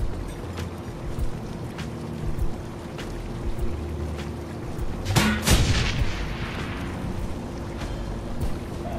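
A grenade from Shadowrun: Hong Kong launches and blows up midway as one sharp, loud blast over a steady low rumble, with a brief fading tail.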